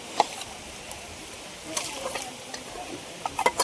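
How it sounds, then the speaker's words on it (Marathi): A ground paste of roasted dry coconut and onion goes into sizzling chicken gravy at an outdoor forest cook-up, giving a steady low fry hiss with a few sharp stirring clatters and a faint background voice. "सुकं खोबरं आणि कांदा भाजून वाटण बनवलं आहे टाकतोय आता ग्रेव्हीसाठी"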